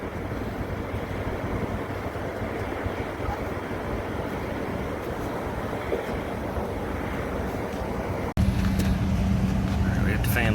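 Rooftop HVAC package unit fan motor running with a steady low hum and rattling vibration, close and continuous, rising suddenly louder with a stronger low drone near the end as the motor is switched back on.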